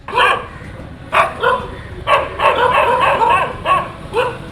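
Stray dogs on a street bark repeatedly at people walking by, a series of loud, close yaps and woofs in uneven bursts about a second apart, with whimpering between.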